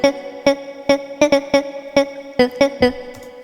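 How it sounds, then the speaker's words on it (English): A synth riff built from a sampled spoken word "duh" plays as a quick rhythmic run of short, pitched, voice-like stabs, loud and dry, with about a dozen hits in an uneven groove. "I've sampled this word duh, and then I play the riff using that sound"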